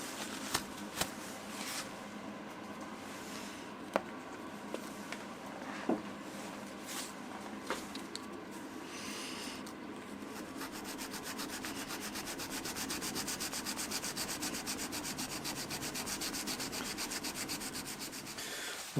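A Scandi grind knife is hand-sharpened on an oiled stone. Quiet rhythmic scraping strokes open with a few soft knocks, then settle into steady, close, continuous rubbing.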